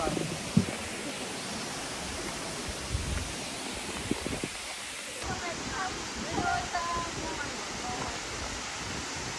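Rushing water from Tumalog waterfalls in Cebu forms a broad, continuous roar, with brief rustles and bumps from nearby handling layered over it.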